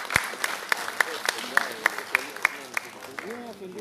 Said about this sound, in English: Please give a round of applause as well.